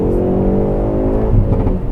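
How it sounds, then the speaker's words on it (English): 2019 Hyundai Veloster N hot hatch with a valved exhaust, revving loud and close as engine pitch climbs smoothly, then roughening into a throaty burble near the end. "this has a valved exhaust, so you can customize it for all your settings, and it sounds so perfect"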